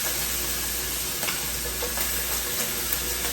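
Onions and minced garlic frying in a pan for a quick ground beef dish, a dense, even sizzle that holds steady throughout with a few faint utensil taps.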